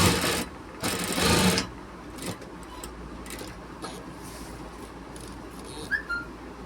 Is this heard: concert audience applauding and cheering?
no